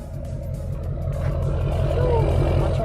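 A pickup truck engine idles steadily nearby, a low continuous rumble that holds even and slightly swells in loudness, with a faint higher whine drifting over it.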